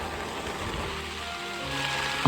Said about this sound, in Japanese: いやー、凄まじく雨が降ってきちゃいました。 これ土砂降りと言っても過言じゃないと思います。